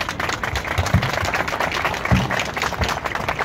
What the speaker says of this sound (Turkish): Ben bol bol alkışlayacağım size